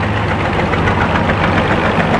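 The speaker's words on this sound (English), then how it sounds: "That Farmall is a 4-cylinder." A Farmall H tractor's four-cylinder engine runs steadily at an outdoor cotton gin festival, a loud, close, continuous low rumble with a slight knocking pulse and no talk over it.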